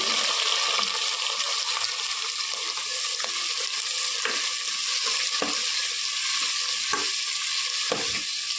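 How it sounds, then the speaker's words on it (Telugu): Onion and tomato frying in hot oil for a mushroom curry, giving a steady, loud sizzle throughout with occasional scraping stirs of a spoon in the pan. "ఇది బాగా ఆయిల్లో వేగేదాకా మగ్గించుకోవాలి."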